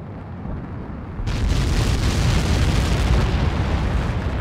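Huge blast from projectiles impacting in the Ace Combat 7 jet combat game, a sudden loud roaring explosion that swells after a second and rumbles on steadily to the end, without talking.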